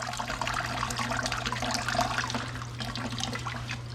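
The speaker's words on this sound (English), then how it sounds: "We're gonna let it drain all the way out." Hot liquid drains steadily from a bag of home brewing grains, a continuous close splashing and trickling of water with a low steady hum underneath.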